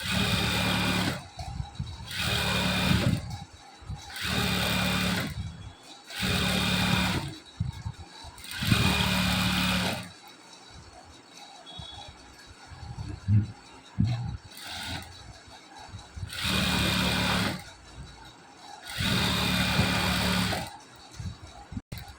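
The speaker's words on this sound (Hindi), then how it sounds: "वन बाय वन सारी पर ही हमने जो है यहाँ पर सिलाई चला देनी है, चारों पट्टियों पर।" A sewing machine stitches strips onto a sleeve in repeated bursts of fast mechanical whirring, each lasting a couple of seconds, separated by pauses. A voice talks in the gaps between bursts.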